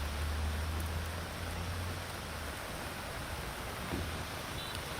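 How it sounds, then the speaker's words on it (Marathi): Heavy monsoon rain falls on Mumbai in a steady, even hiss that fills the whole stretch at moderate, distant level, with no voices. "मुंबईकरांना मुसळधार पावसाचा सामना करावा लागतोय"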